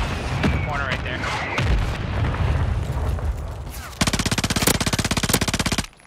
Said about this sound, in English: Guys on big guns are shooting you.